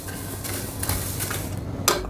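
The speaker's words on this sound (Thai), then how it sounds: "ปิดไฟแล้วคุณก็ผัด เม็ดผักชีกับยี่หร่ากับความร้อนในกระทะอีกสัก ครึ่งนาที" Coriander seeds and cumin tossed in a hot pan with the heat turned off, several metallic scrapes and clinks of a utensil against the pan, with a sharper clank near the end.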